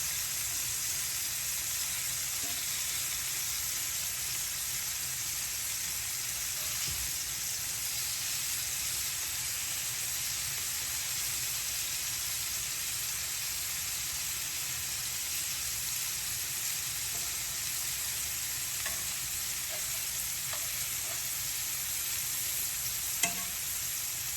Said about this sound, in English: It doesn't take long for fish to cook, as you know.